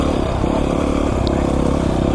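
A 2019 Beta 500 RR-S dirt bike, an Italian machine, runs steadily along a narrow mountain single-track trail, its engine a continuous loud drone with no other sounds above it.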